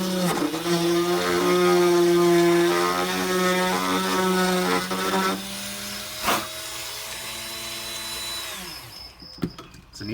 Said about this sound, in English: So I'm going to drill a hole right about here.